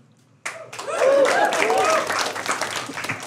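An audience answering a show of hands by applause, bursting into clapping at a talk; a sudden onset of many hands, dense and sustained, with some voices mixed in.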